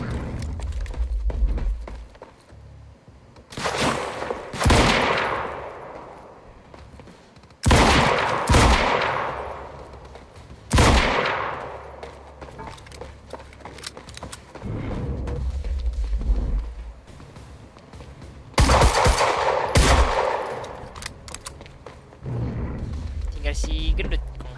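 Machine gun bursts in the video game Quantum Break: several loud, sustained rattling volleys recurring every few seconds, close and dominant, with game voices in between.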